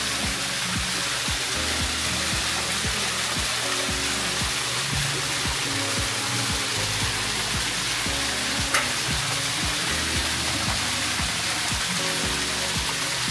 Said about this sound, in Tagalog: Ayun, may falls.